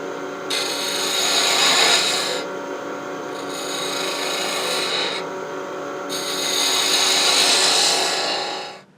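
A 3/8 inch spindle gouge cuts wood on a lathe for an antique bedpost finial, a steady close rasping scrape that swells and dips in several passes before fading out.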